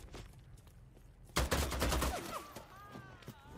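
Gunfire in the video game Bloodhunt: a loud burst of rapid shots erupts partway through after a quieter stretch, then tapers into lighter clatter and faint tonal effects.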